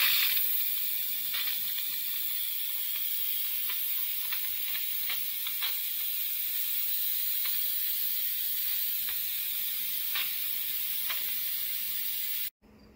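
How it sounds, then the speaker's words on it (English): Steam vents from a pressure cooker holding acorn squash soup, a steady loud hiss with faint clicks, continuing for about twelve seconds before stopping abruptly. "Time to release the steam."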